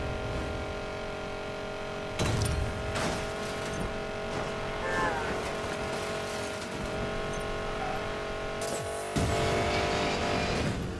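Nissan Fairlady engine in the racing game Need for Speed Payback, a steady droning hum with louder bursts of revving and tire noise around the middle and near the end, no voice over it.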